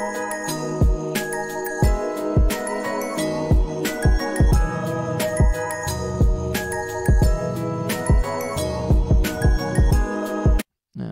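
A programmed drum beat with punchy kicks under a bright, busy loop of hats and tinkling percussion, repeating steadily in a syncopated pattern, loud and close with a brief dropout near the end.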